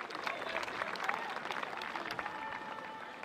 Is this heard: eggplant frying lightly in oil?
no